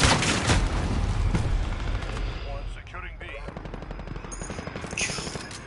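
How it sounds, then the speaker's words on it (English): Dense, rapid bursts of automatic gunfire from a video game as a player tries to shoot down a target, loud and continuous, with voice chat underneath. "I've been trying to shoot it down, dude"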